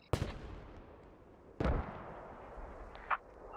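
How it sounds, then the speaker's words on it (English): Smoke mortar rounds land in the game Squad: two heavy thuds about a second and a half apart, each with a long rolling tail, then a fainter distant crack, all over a quiet low rumble. "Sounds like we've got smoke mortar coming in."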